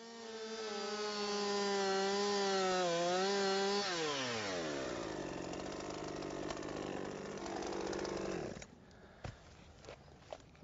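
A chainsaw cuts into a tree during felling, its engine running loud and close with a strained, wavering whine that bends downward, then drops away and stops near the end, leaving a few faint knocks.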